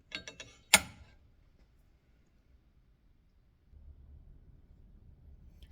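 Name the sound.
changing the sanding belt on a knife belt grinder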